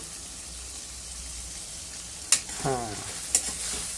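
Food being sautéed in a pan, heard as a low sizzle under a few sharp clanks of a spatula against the pan, with a brief spoken word in between.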